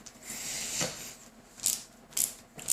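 Screws being driven into a plastic Tamiya flatbed trailer model, with a soft grinding whir followed by several short sharp ratcheting clicks up close.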